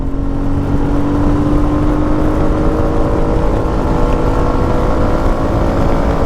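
Royal Enfield Meteor 350 motorcycle accelerating up through the gears, a loud continuous engine drone with steady tonal whine and wind rush, no talking.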